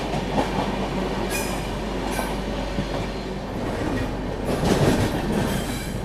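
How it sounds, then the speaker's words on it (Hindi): Garib Rath train rakes rolling past at Begumpet station in Hyderabad, with continuous rumbling wheels, rhythmic clickety-clack and brief squeals, heard close by with no talking. "ये किसी गरीब रथ के रेक लग रहे हैं मुझे"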